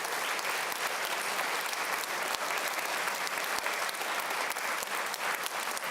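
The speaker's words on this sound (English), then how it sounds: "let's make a quick picture and then final applause." A hall full of people claps loudly and continuously at a programming contest award ceremony, a dense, even wash of applause with no voices on top.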